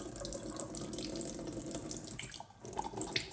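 Water runs from a tap as washing machine parts from a Miele W1 are rinsed under it, a steady close splashing hiss with small shifts as the parts move through the stream.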